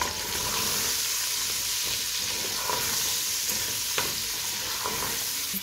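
Onions frying together with chicken sauce in a pot, a steady close sizzle with stirring scrapes and a few brief clicks throughout, no voices.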